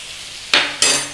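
Two quick bursts of sizzle as curry powder and chili powder go into hot oil with lightly browned garlic, each a loud hiss that fades fast.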